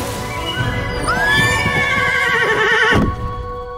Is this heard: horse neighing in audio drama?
yes